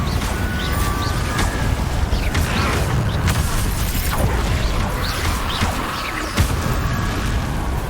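The Confringo blasting spell in Hogwarts Legacy goes off amid combat: a series of sharp, crackling bursts and thuds ring out over a busy, loud battle soundscape.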